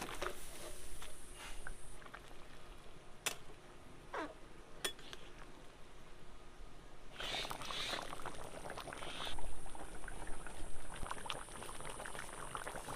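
Pieces of a large 4.5 kg fish go into a simmering Bengali fish curry (jhol), village style: a steady soft bubbling with occasional splashes and light clinks of a pot, fairly quiet and close.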